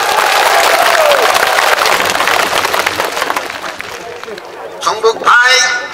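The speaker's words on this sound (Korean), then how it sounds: "박수를 쳐주시기 바랍니다" A crowd at an outdoor national security rally in Incheon applauds loudly, a dense clapping roar that fades over several seconds before a voice speaks over the thinning noise near the end.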